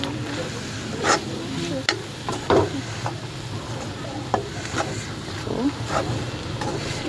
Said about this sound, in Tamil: மிளகாத்தூள் போட்டு நல்லா அப்படி கிளறி விடணும்.